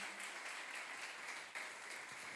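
A congregation applauding during an evening church service, soft continuous clapping heard at a distance and at low level throughout a brief moment.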